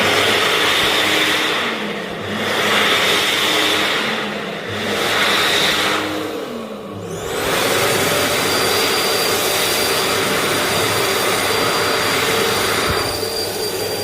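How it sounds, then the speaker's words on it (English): A Mitsubishi Jet Towel Smart hand dryer runs with a steady, loud jet-like roar. The airflow shifts and dips a few times before it settles into a constant high whine. "this hand dryer combo is still there"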